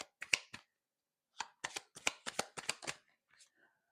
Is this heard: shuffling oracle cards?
yes